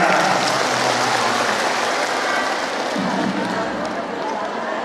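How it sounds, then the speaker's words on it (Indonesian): Audience applause at an Islamic religious study gathering, a steady wash of clapping from a crowd of women that fills the whole stretch and tapers slightly near the end, with some voices mixed in. "Tepuk tangan semuanya."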